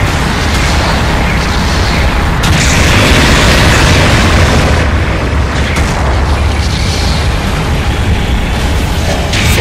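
A mobile suit explodes as it is destroyed in the Gundam Battle Operation 2 video game, giving loud, continuous booming blasts with rumbling bursts that fill the whole stretch, no speech.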